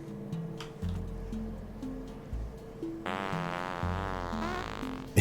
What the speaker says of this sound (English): puffer fart sounds back down, because those are a little noisy